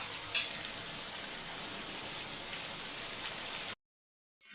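Chicken thokku masala sautés in a pan with a dense, even sizzle like steady rain that runs on alone, then cuts to silence near the end before briefly resuming.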